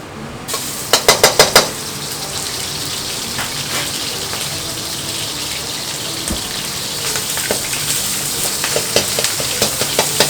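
Minced meat fries in about two tablespoons of oil in a pan, giving a steady close sizzle throughout, with a burst of sharp scraping clicks early on and more stirring taps toward the end.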